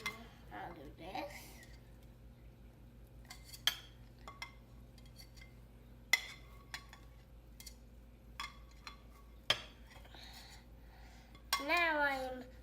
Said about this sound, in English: Now I'm scraping the egg down to my plate